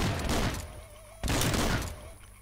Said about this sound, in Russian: О, пулемет появился